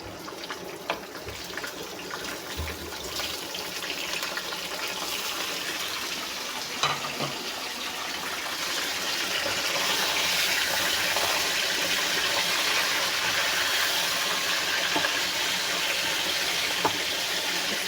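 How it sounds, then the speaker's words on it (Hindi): Chicken pieces fry with onions in a pan, giving a steady watery hiss that grows noticeably louder and fuller partway through, with no voices. "इसको अब हमने अच्छी तरह फ्राई करना है, कलर इसका चेंज हो जाए।"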